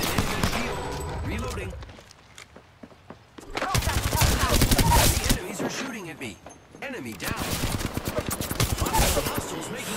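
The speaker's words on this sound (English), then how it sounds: "The enemies are shooting at me." Enemy gunfire in the battle royale game Apex Legends crackles in rapid bursts, with loud volleys broken by brief quiet gaps, while a player talks over the shooting.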